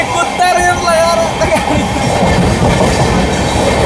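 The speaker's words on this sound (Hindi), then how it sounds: "और सामने से आ रही है आपकी सीमांचल एक्सप्रेस जो कि जा रही है प्रयागराज जंक्शन के बीच तरफ।" Seemanchal Express train rolling past on the rails bound for Prayagraj Junction, a loud, steady roar of wheels and carriages with rhythmic clickety-clack, close by and continuous, with no voices.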